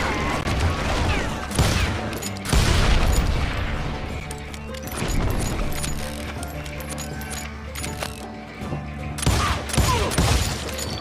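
Hired gunmen in Call of Juarez: Gunslinger fire on the player in a loud Western shootout, with repeated sharp shots and crashes scattered across a noisy battle.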